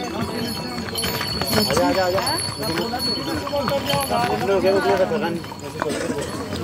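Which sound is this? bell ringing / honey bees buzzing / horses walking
horses walking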